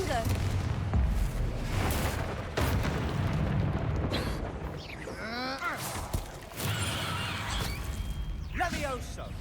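Spell blasts going off in the Hogwarts Legacy video game, a rapid run of booming explosions and whooshing magic effects amid combat clamor, with a voice calling out spell names over the top.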